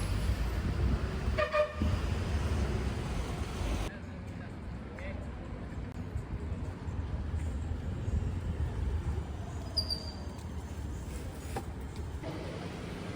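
A train rumbles through a small two-platform railway station at Mahe, a low continuous roar with a brief horn toot early on, the noise shifting and easing partway through.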